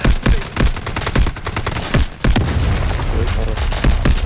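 Rapid gunfire from the mobile shooter game Delta Force crackles in sharp, loud bursts, a fast irregular string of shots with brief pauses, dense and close throughout.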